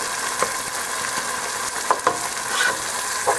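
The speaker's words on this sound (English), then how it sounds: "I'm kind of mushing them down in the pot." Beef pilau cooking in a pot while the ingredients are mashed down, a steady sizzle and bubbling with a few soft scraping knocks from the utensil against the pot.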